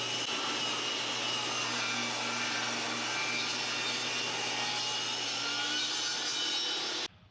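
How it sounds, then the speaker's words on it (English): A power saw runs steadily during horse trailer repair, a loud, continuous motor whine with a broad hiss that holds an even level for about seven seconds before cutting off abruptly. "We need to plug the saw in."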